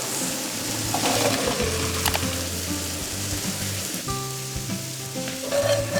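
Onions caramelizing in a pan sizzle loudly and continuously for macaroni and cheese, with a few scraping stirs of a utensil and faint clinks near the start.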